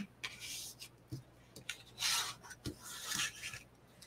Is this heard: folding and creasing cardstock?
yes